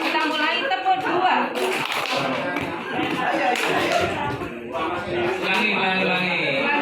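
A group claps a two-beat rhythm in a classroom activity, with repeated sharp hand claps over a steady stretch and voices talking throughout.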